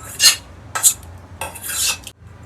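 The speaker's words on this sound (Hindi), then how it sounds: "दूध उबल गया है हमारा, तो ये जो भीगा हुआ चावल है ये हम इसमें ऐड कर देंगे" Soaked rice added to boiled milk in a pot for kheer, heard as three separate metallic scrapes and clinks of a spoon against the pot, close and fairly loud with quiet gaps between them.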